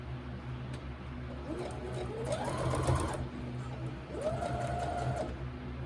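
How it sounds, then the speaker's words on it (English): A sewing machine stitches a seam on a pants pocket in two close, whirring bursts with rising and falling motor pitch, running steadily over a low background hum. "I'm sewing right on the stitch line"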